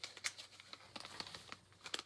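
Plastic CD sleeve bags crinkle softly and close by in quick, irregular rustles and crackles, quiet with no voices.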